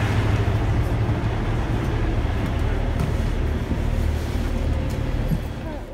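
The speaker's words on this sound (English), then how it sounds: "Currently, we're sitting on the Pipikura train." Constant low rumble and rattle of a moving train heard from inside a carriage, steady and loud, easing off at the end.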